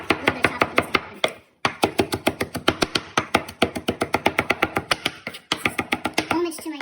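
A knife rough-chops spices on a cutting board for a jerk-spiced honey bean stew, a quick steady run of close, crisp chops with two brief pauses.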